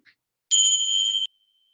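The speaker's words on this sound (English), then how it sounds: "I'll ring the bell to signal the end of this breath awareness." A meditation bell rings once, clear and bright, with a sustained tone that fades into a long faint ring-out in an otherwise silent room.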